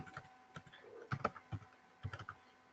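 Someone types data into a database table on a computer keyboard, sending short bursts of soft, close key clicks in an irregular rhythm with brief pauses between clusters.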